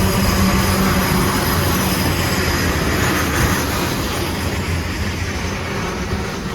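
A slow CPKC manifest freight train rolls past, a continuous loud rumble of wheels and cars with faint metallic squeal running throughout.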